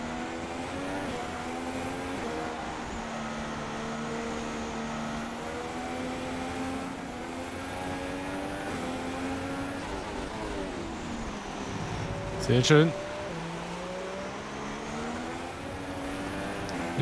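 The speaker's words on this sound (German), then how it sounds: "Ich bin nur am Driften mit dem scheiß Auto" Race car in the F1 2016 racing game sliding and drifting at the Spain circuit, a continuous engine drone with shifting pitch and a short sharp tire squeal burst near the end, while someone speaks briefly over it.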